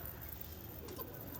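A Madras pigeon coos softly and low amid steady background noise, faint and close, in a short stretch with no speech.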